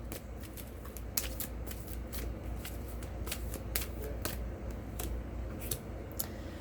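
Tarot cards are shuffled for a love reading, a rapid papery riffle broken into repeated sharp flicks and slaps at an uneven rhythm, close and clear with no talking.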